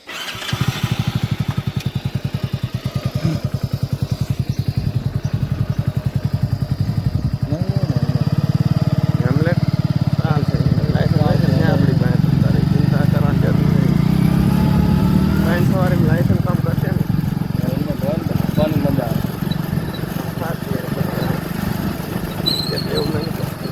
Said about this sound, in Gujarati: તો ચાલો હવે બાઇક લઈને નીકળીએ